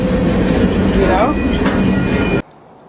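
A freight train rolls on the rails, loud and close with a steady rumbling roar, rattling clatter and a faint wheel squeal, cutting off abruptly near the end.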